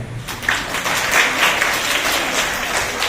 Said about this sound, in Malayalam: നമുക്ക് പരസ്പരം കൈയടിച്ചുകൊണ്ട് പരസ്പരം നമുക്ക് അഭിനന്ദിക്കാം